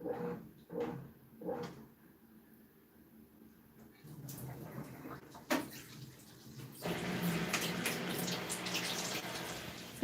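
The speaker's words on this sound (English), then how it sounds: "the sink doesn't drain nearly as fast as the water comes out of this hose" Water gushes from the drain hose of a BLACK+DECKER BPWM16W portable washing machine into a sink, starting after a few quiet thumps and clatters, then rushing in a steady, fairly close stream.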